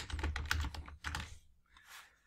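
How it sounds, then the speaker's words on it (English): Quick clatter of keystrokes on a computer keyboard, close and fairly quiet, a short burst of rapid taps followed by a pause and a faint final rustle. "Let's type in crab knife."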